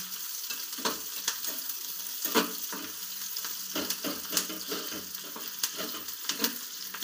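Grated coconut sautéed in a pan for egg curry, a soft sizzle punctuated by repeated scraping stirs of the spatula at an irregular rhythm, close and without talking.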